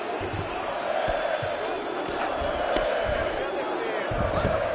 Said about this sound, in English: So the crowd absolutely loving it as these fighters work their way back to the feet